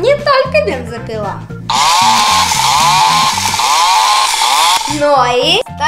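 A Hello Kitty toy chainsaw buzzes loudly and steadily for about three seconds, with a person talking before and after it.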